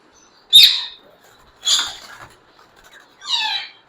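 Three separate bursts of calls from a pair of golden mantle rosellas, close by and fairly loud, each a short chattering or whistled phrase spaced about a second apart, with quiet between and no talk.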